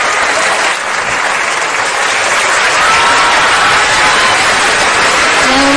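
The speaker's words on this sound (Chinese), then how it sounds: "我们再一次的掌声来恭喜流行音乐大奖得主" A large audience at a Singapore pop music award ceremony applauds a winner, a dense, loud, continuous wash of clapping lasting several seconds.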